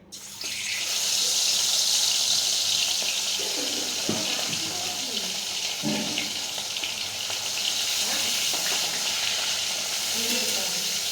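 Fish frying in a pan in a home kitchen, a steady close sizzle with a few clinks and stirring knocks, running continuously.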